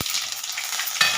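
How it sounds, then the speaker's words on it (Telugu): Fenugreek, cumin, mustard seeds and dried red chillies sizzle in hot oil in a pan, a loud, close hissing crackle that runs throughout the brief moment with a small stir near the end. "బాండీ పెట్టి నూనె పోసి పులుసు కూరకి నేను కొంచెం మెంతులు వేస్తానండి"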